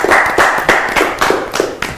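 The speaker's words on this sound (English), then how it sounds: "let's clap, let's clap." Audience clapping at a live youth discussion session, a few hands striking in uneven bursts of quick claps, fairly close and alone without talk.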